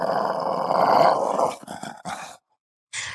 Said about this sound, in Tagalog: Unti-unti kaming nilalapitan ng mga aso